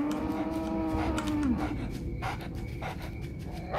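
Cattle mooing in a field at night, a single long low moo rising then breaking off about halfway through, fairly close and loud over a steady outdoor background hiss, with fainter rustling afterward.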